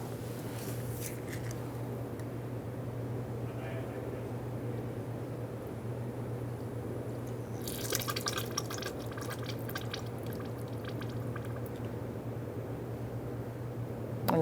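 Brake fluid from a 2014-2018 Subaru Forester drips into a drip pan during a brake bleed, quiet steady trickling and dripping under a low hum, with a brief louder burst of splashing partway through.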